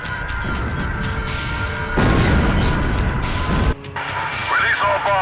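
Bombs explode over a city in the Ace Combat flight combat game as a loud, continuous rumbling roar that surges at about two seconds and then cuts off sharply, followed by quieter mechanical sounds.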